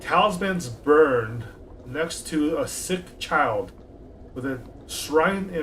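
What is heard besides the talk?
No distinct noise like a dog, phone or traffic.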